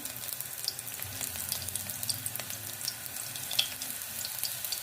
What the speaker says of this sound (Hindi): हम लहसुन को फ्राई कर लेंगे। हल्का सा फ्राई करना है।